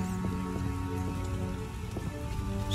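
Steady rainfall in The Witcher 1 video game, a dense continuous patter of drops on surfaces with a low rumble and faint tonal game ambience underneath, no speech.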